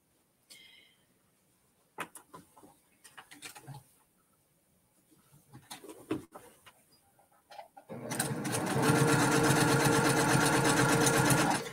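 A sewing machine stitching fabric runs steadily in a loud, continuous whir for the final few seconds, after scattered clicks and handling sounds from pinning and adjusting the material.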